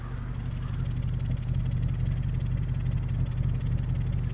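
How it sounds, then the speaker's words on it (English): An Audi S5 idles steadily at close range, a continuous low engine rumble with a faint rhythmic pulse and no changes in revs throughout. "I gotta let that idle for a little bit because I need the battery to charge."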